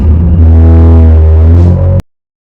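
Music from the Diddy Kong Racing video game plays loud and steady, a thick sustained tonal drone with layered harmonics that cuts off abruptly after two seconds into silence.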